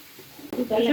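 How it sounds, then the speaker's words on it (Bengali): Coconut-filled pitha wrapped in jackfruit leaves drops into hot oil in a wok, and a sudden loud sizzle bursts up partway through after a quiet start. "তেলটা গরম হয়ে গেছে এখন আমি এটার মধ্যে দিয়ে দিব পিঠাটা"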